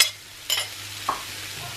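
A nonstick pan with no fat cooks food, including avocados, with a low sizzle broken by a few sharp scraping stir strokes near the start and middle, then a faint steady frying hiss; no voices.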